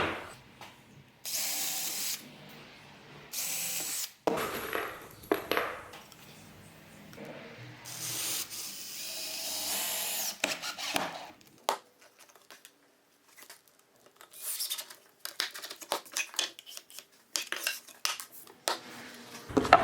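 A Festool Domino DF500 joiner makes repeated short plunge cuts into a wooden shelf runner. Brief bursts of motor whir alternate with clicks and handling knocks at close range, with no talking.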